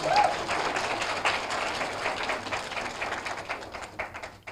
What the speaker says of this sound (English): I think you ought to give us a round of applause